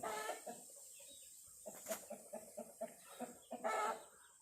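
Chickens kept at home give a rapid series of close clucks and short squawks, with a louder call near the start and another burst near the end, no talk over them.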